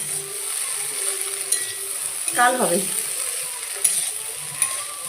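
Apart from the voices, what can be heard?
potatoes frying in a pan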